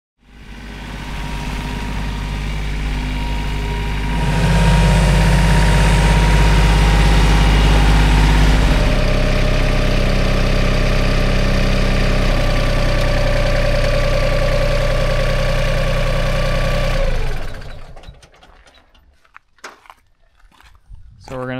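A tractor engine runs steadily at idle nearby, rising to a louder, deeper rumble partway through, then cutting off abruptly near the end, with people talking faintly beneath it.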